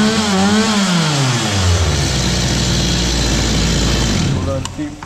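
Stihl MS 250 chainsaw engine with a sealed carburetor adjustment, starting up and revving before settling into a steady loud running drone, close by, with a voice partly under it.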